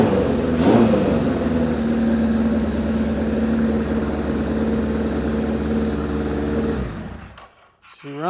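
Suzuki GS750 motorcycle engine idling steadily and close, a continuous low rumble for about seven seconds before it cuts off.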